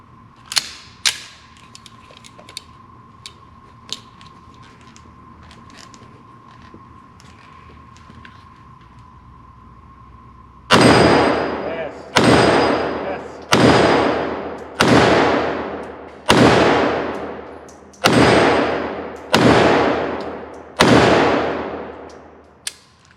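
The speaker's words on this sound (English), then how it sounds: "This is the best .380 pistol that I have ever shot so far" Browning 1911 Black Label .380 ACP pistol fired at a target: eight sharp, loud shots at a steady rhythm, each with a short ringing decay, following a quiet stretch of low background hum.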